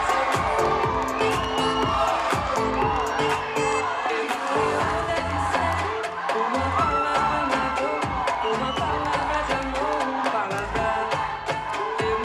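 An audience at the Reine du Muguet 2024 pageant in Compiègne cheers, whoops and shouts loudly and continuously for the candidates, a dense crowd roar with children's voices mixed in.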